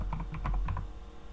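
A computer keyboard clacks as a file name is typed, a quick run of about eight close, distinct keystrokes in uneven rhythm that tapers off, with no speech over it.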